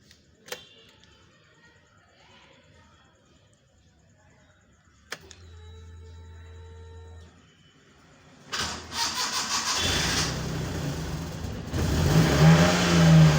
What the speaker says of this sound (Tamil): இன்ஜின் நான் ஸ்டார்ட் பண்ண போகிறேன் பாருங்கள்